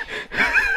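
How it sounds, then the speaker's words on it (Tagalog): Heavy, raspy breathing from a cyclist just after a steep uphill ride, close to the mic, two long rough breaths in quick succession. "Bakit puro hingal na naman?"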